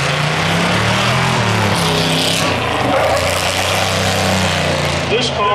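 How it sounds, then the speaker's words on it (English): An airbox Corvette race car runs with a steady, throaty engine rumble and a slight pitch shift partway through, loud and close, while someone talks over it. "This car is one of the rare, what they call airbox Corvettes."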